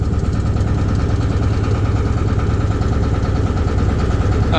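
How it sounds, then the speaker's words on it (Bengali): A single engine drives a small passenger launch on the Tetulia River between Bhola and Patuakhali, running as a loud, close, even drone with a rapid throbbing pulse that holds steady throughout, without any voices. "লঞ্চে কিন্তু একটা ইঞ্জিন দিয়ে চলে"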